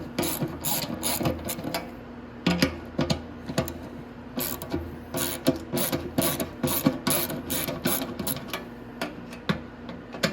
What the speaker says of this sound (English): I don't need my ratchet anymore